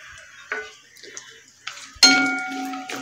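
Metal spoon clinks and scrapes in a pan as cashews roast in ghee for sooji halwa, with a few sharp knocks, the loudest about two-thirds through, followed by a ringing tone.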